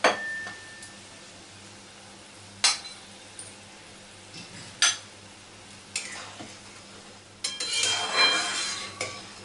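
Fried eggplant goes into a simmering pabda fish curry, several sharp metallic clinks of a spoon against the pot, then a louder burst of scraping and splashing as the pieces are stirred in, over a low sizzle.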